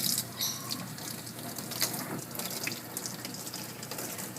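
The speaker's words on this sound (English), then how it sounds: "When you're rinsing around the ears, you can hold the ears shut so that the water doesn't go in there." A tap runs steadily while a kitten is rinsed during a bath, a continuous close splashing hiss of water with small clinks, and no talking.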